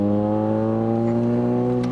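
A Honda Civic Type R FN2 with cams and bolt-on modifications pulls hard under acceleration, its engine note a loud, steady, rising drone with strong harmonic layers, heard from inside the car throughout.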